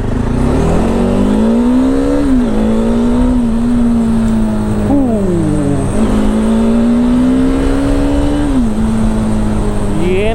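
A motorcycle engine with its exhaust revs steadily, its droning tone rising and falling through repeated throttle blips. It is loud and close, running continuously with no talk.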